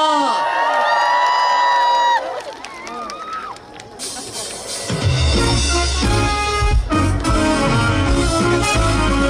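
An outdoor festival audience cheers and whoops with scattered shouts, then loud upbeat music with a heavy beat kicks in halfway through as a trot song begins.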